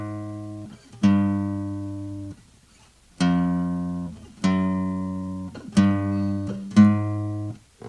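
Single guitar notes are plucked one at a time, each ringing and fading, stepping between two neighbouring pitches, G and a semitone higher, several times.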